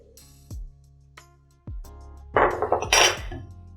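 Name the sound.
spoon mixing flour into cake batter in a bowl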